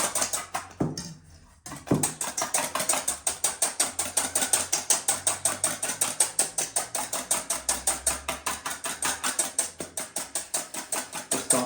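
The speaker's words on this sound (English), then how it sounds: "you give it a sort of a whisk to break up the big globby jelly-like structure" A whisk beating a globby, jelly-like violin varnish mixture in a container, fast rhythmic clicking strokes repeating steadily and close up after a brief pause near the start.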